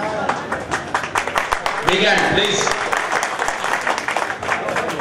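Audience clapping at a gathering, starting as scattered individual claps and building into a fuller round of applause, with a voice speaking over it.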